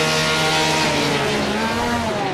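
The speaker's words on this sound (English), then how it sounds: "Revs are rising." Porsche race car engines revving together on the grid before the start of an esports sim race at Spa-Francorchamps, a loud, continuous layered drone with rising tonal whine, no voices.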